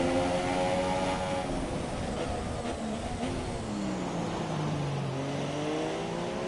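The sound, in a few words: F2 race car engine revving through gear changes, video game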